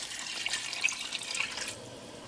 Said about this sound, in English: Now we're going to add water, and that will be the 3 cup water.